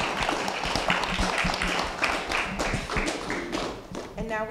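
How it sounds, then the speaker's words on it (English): A conference audience applauds the panelists at the end of a panel discussion on marginalized people's rights, a dense patter of clapping that fades out near the end, with voices mixed in. "Let's have a round of applause for our panelists."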